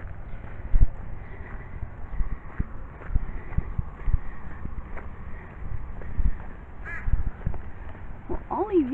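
Crows cawing outdoors among a family group, with occasional harsh calls over wind noise and a person talking nearby at intervals.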